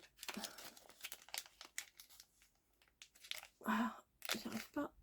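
Plastic packaging being pulled open from a special eraser, giving close crinkling and tearing bursts, strongest near the end, with some speech mixed in.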